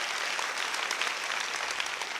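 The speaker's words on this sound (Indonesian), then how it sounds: "tepuk tangannya boleh paling meriah buat Tuhan kita." A church congregation claps for God at a worship service, steady dense applause filling the room throughout without a break.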